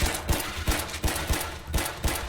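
Rapid gunfire in a Roblox zombie game, a quick series of evenly spaced sharp shots firing in a steady rhythm at moderate loudness.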